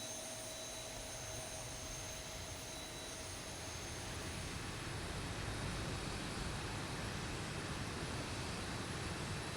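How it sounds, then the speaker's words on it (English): A turbine jet engine spooling up in the X-Plane 12 simulator on a Zibo Boeing 737-800, a steady whine and rushing roar that grows slightly louder and fuller as it starts, with no voices. "exhaust gas temperatures rise, and then a turbine engine starts."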